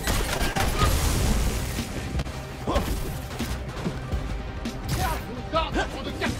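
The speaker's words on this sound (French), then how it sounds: "Je lance une grenade." A grenade blast in Spider-Man: Miles Morales lands amid a dense, loud combat mix, with heavy booms and crashing impacts around the middle and near the end over constant game effects.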